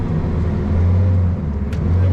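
A car engine idles steadily after being bump started on the road, with a low, constant hum and a brief higher mechanical squeak partway through.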